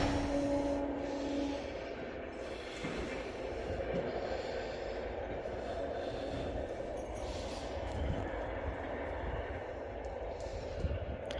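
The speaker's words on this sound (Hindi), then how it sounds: "ट्रेन जा रही है, ट्रेन की आवाज़ आ रही होगी आप लोगों को।" A train passes on an overcast, chilly afternoon, heard as a steady, broad rumble that holds at a fairly even level across the whole stretch, with no clear voices over it.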